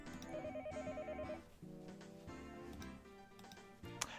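A telephone rings in the Higurashi visual novel game, a repeating electronic trill over background music, with the music carrying on after the ringing stops.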